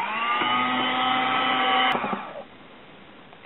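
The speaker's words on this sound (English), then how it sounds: "whip this up for just a couple of minutes on our medium speed on our little handy dandy hand mixer here" An electric hand mixer runs at medium speed, whipping egg yolks for eggnog. It makes a steady, close whirring hum for about two seconds, then cuts off, leaving faint room noise.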